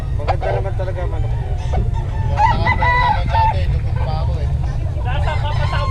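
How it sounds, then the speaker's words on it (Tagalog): Fighting cocks for sale at a poultry market cluck and crow in bursts, both near and farther off. Their calls mix with someone talking and a steady low rumble of background noise. "Maganda naman talaga manok."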